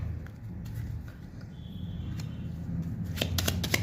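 A deck of playing cards is shuffled by hand. Soft papery riffling is followed by a quick burst of crisp flutters near the end, close and fairly quiet, with no speech over it.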